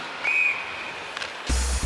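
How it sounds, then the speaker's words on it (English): A referee's whistle at a women's professional ice hockey game, Ottawa at Boston, gives one sharp, sustained blast over the arena's ambient hum, followed by a brief rink thud near the end. "Another whistle down low."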